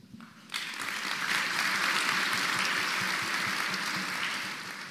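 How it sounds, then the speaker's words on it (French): Students at a university talk event break into applause. Clapping swells in suddenly after half a second, then holds as a full, dense round that eases slightly toward the end. "Vous applaudissez un fraudeur fiscal."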